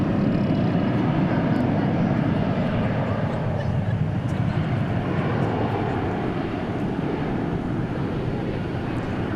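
Airplane departing DFW International Airport on a flight to Waco, its engines a broad steady roar heard from a distance outdoors, with wind buffeting the microphone throughout.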